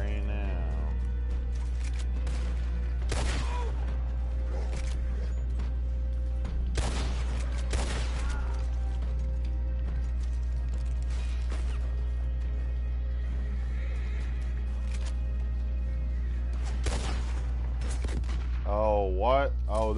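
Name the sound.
gunfire in video game Red Dead Redemption 2 Online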